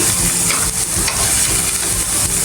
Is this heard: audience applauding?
no